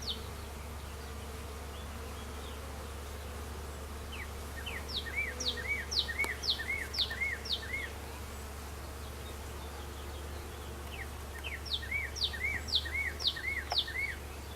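Honey bees buzzing around the entrance of a hive labeled AMM, a low steady hum close by, with repeated chirping bird song phrases ringing out twice in the background.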